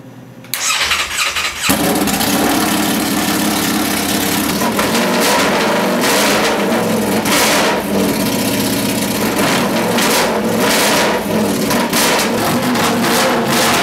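A Ducati Panigale V4 race bike with a race exhaust fires up after a brief quiet moment, then runs loud and close, with repeated sharp rev bursts over a rough, steady roar.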